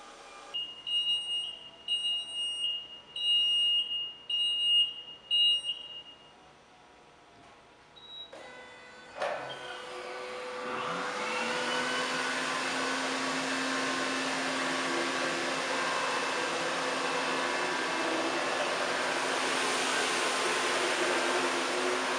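A Hurricane 900 XTT 36-inch floor machine starts up and runs as it moves forward, a steady mechanical whir and hum that holds level for a long stretch after a few earlier electronic beeps and clicks.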